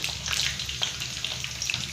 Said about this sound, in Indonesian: kemudian langsung aja kita goreng